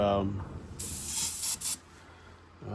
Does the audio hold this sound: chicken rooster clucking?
no